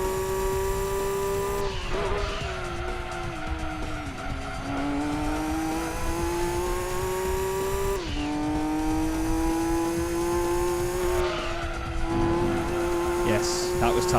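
A race car engine in Gran Turismo 2 at Laguna Seca holds a high, buzzing whine, climbing through the revs and dipping sharply at gear shifts, with tyre squeal mixed in and someone talking over it.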